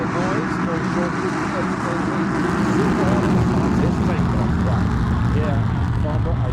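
An aircraft engine drones steadily at the 2016 Farnborough International Airshow, a continuous loud propeller-like rumble with a voice talking over it throughout.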